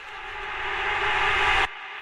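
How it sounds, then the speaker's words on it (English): A reversed rap vocal soaked in reverb swells up as a washy, breathy rush, growing louder for about a second and a half before cutting off abruptly into a faint tail. "We have a reverse vocal right here too that I like throwing in."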